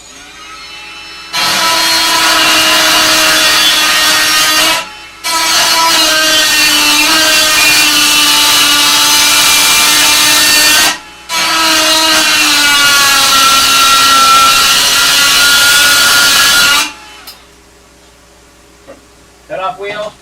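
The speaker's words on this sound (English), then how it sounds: "Die grinder." Die grinder with a cut-off wheel cutting metal in a car engine bay, three long loud whining bursts separated by brief pauses, ending with quieter sounds of handling.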